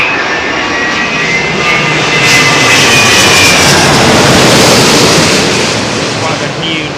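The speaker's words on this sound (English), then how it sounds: "One of the new Neo 330s" Airbus A330neo jet landing on runway 27L at Heathrow, a loud, sustained engine roar with broadband rush that swells mid-pass and holds steady, close and dominant throughout.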